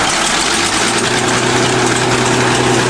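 Huge bulldozer engine roars loud and close as it is given gas, a dense steady drone with heavy vibration throughout and no speech.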